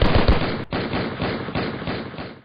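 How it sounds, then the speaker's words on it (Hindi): Rapid bursts of indiscriminate gunfire from armed bandits crackle loudly and continuously, shots overlapping in a dense volley with a brief gap before the firing resumes. "और यहां पहुंचने के बाद अंधाधुंध गोलियां बरसाई जाने लगीं"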